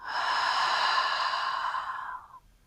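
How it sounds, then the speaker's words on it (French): A single long, audible exhale, breathed out slowly and evenly at close range during a gentle beginner morning routine, fading out after about two seconds. "On inspire par le nez et on expire par la bouche."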